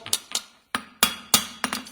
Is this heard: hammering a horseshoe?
yes